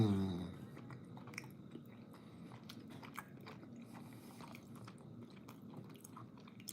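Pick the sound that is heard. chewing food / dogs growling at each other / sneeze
chewing food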